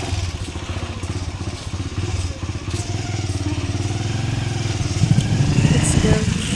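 A small motorcycle carrying two riders toward a school on Sarangani Island, its engine chugging steadily and fairly loud throughout, with a low rumble and some rattling under the ride.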